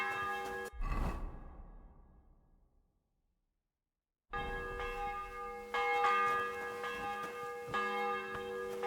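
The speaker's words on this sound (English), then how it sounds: "The 11th toll of the bell." Church bell tolling in the medieval game Kingdom Come: Deliverance 2, one deep strike ringing out and decaying into silence, then another rich, resonant toll with lingering overtones, loud and close, with no talking.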